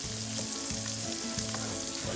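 Onion sautéing in a pan with black pepper, a continuous close sizzle and crackle with faint stirring underneath, steady throughout.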